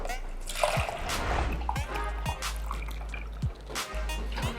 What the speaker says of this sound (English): And now we put the last liter of water